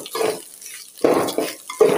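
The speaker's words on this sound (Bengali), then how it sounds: "পানি দিয়ে দিই।" Water is poured into a pan of khichuri cooking with fried cumin and ginger paste, heard as close, gurgling splashes that come in a few bursts over about two seconds.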